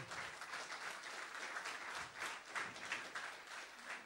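Audience applause at a national political congress, a dense, even wash of many hands clapping at once, fairly distant and quiet, holding steady without talk over it.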